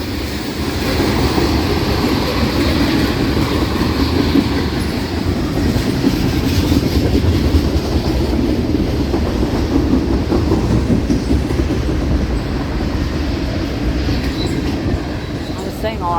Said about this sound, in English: How'd you guys like that CPKC locomotive?